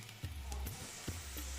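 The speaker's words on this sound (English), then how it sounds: "Fry in medium hot oil. Don't burn it." Flattened onion and spinach (palak) pakodas fry in medium-hot oil, giving a steady close sizzle with a few soft pops and bubbling bursts, and no voices.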